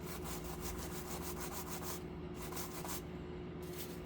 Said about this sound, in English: I'm going to take some 320 grit sandpaper, sand the top of the frog so it makes good electrical contact.